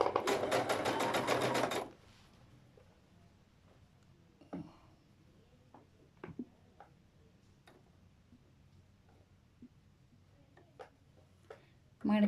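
A sewing machine runs in a fast, loud burst for about two seconds, stitching a folded fabric edge on a petticoat during a tailoring class, then stops, leaving faint clicks and light handling sounds in a quiet room.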